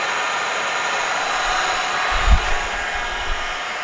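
A Sterling Machinery machine runs steadily at 1,500 RPM, giving a smooth, continuous whirring hum with a brief low thump in the middle and no other sounds.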